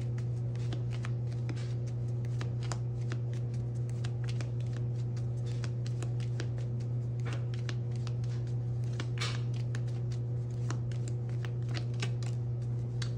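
A deck of tarot cards is shuffled continuously and cards are pulled, giving a steady, close riffling patter with quick flicks throughout, over a constant low hum.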